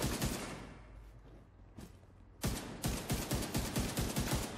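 Rapid gunfire in The Division 2 on PS5, sparse shots at first, then a dense burst of close automatic rifle fire in the last two seconds, with no talk.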